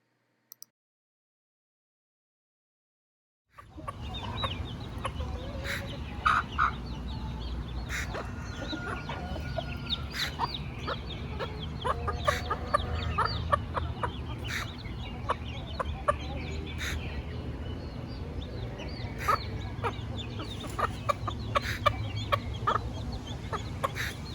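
After a brief silence, a hen and her newly hatched baby chicks cluck and peep continuously, with soft repeated clucks and high chirps close by and no talking.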